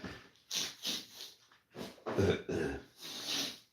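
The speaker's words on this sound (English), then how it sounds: "Okay, blow my nose." Several forceful nasal blasts in quick bursts, close and loud, separated by brief pauses, with no talking.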